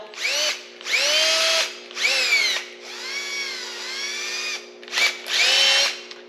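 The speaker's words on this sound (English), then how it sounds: "I'm gonna drill a tiny pilot hole first." A power drill whines in several short bursts with pauses between them while drilling a small pilot hole, its motor pitch rising and falling as it bites in; close and loud.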